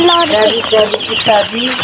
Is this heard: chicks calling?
yes